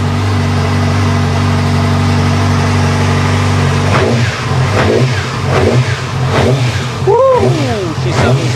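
A 2009 Yamaha R6 motorcycle engine runs at a steady idle, then revs up in several sharp blips, with a rising-and-falling whistle near the end and a voice cutting in over the engine.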